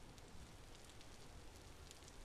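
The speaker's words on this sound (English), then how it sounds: "Is that the ambient rain sound that they added?" Ambient rainfall in the survival game Vintage Story, a faint, even hiss of rain on surfaces with scattered soft droplet ticks and no voices.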